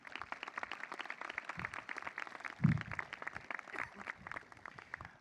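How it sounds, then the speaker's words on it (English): Faint, distant applause from a university induction audience honouring staff, a steady crackle of many hands clapping throughout with one louder close thump partway through. "Can we give our staff a round of applause?"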